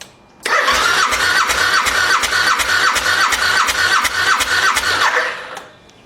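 A Suzuki V-Strom DL1000 motorcycle engine cranks over on the starter with the throttle held open during a compression test, a steady rhythmic churning of about a dozen compression pulses lasting several seconds before stopping.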